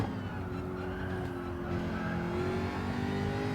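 Race car engine in Gran Turismo 7 accelerating hard out of a corner, a loud, steady, rising engine drone with faint tire squeal, close and alone.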